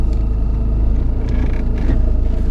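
A car engine idles with a deep, steady rumble as the vehicle is parked at a hotel at night in Ladakh, close and continuous with slight shifts in tone and no talking.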